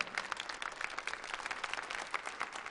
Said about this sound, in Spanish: ¿Les podemos dar un aplauso a los pastores de la casa, por favor?